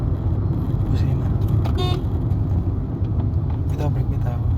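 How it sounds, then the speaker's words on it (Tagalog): A car horn gives two short, faint toots from inside a car during a first driving lesson, nearly buried under steady engine and road rumble. "Busina."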